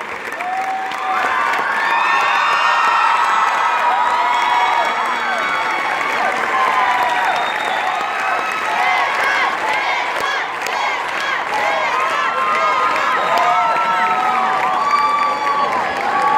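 A theatre audience gives long, loud sustained applause mixed with cheering, whoops and shouting voices, a full roaring crowd that stays intense throughout.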